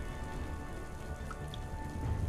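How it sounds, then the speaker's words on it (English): Rain falls on a video game map, a steady close hiss of dense drops with faint patter, continuous and unbroken, no voices. "Has it always rained?"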